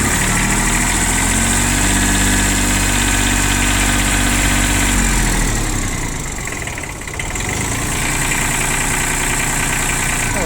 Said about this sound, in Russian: трактор работает достаточно ровно, хорошо, тихо